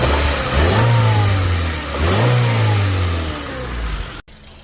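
A Honda engine fitted with a new exhaust header revs up twice in quick succession, each blip rising and falling over a steady idle, loud and close, before cutting off abruptly.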